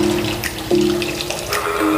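A steady electric hum from a small water dispenser pump runs throughout, with splashy water noise and a brief shift in tone partway through as the water runs out.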